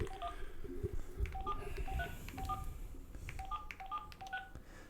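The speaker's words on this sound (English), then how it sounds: "that's called a dial tone" A rapid series of touch-tone telephone dialing beeps, short pitched tones in quick clusters, heard over a steady low background hum.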